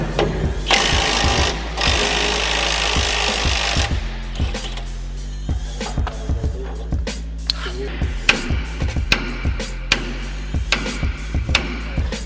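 Loosening a nut on the front suspension of a 2012 Ram 1500 Hemi 4x4: a burst of rapid pneumatic impact-wrench rattle, then a string of sharp metallic taps and clanks, close by.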